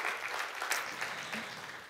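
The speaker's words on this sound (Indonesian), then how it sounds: "Beri tepuk tangan yuk buat Tuhan kita yang dahsyat." A church congregation claps during an online worship service, steady mid-level applause filling the short stretch with no distinct voices.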